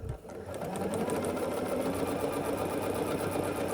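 Sewing machine stitching quilt block pieces together, a steady fast close mechanical whir that starts up after a brief pause and runs continuously to the end.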